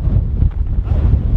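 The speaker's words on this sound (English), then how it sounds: "Guys, it is so windy here." Strong wind in Jomsom, Nepal buffets the microphone in a steady, heavy low roar with gusty surges throughout, close and loud, with no voices.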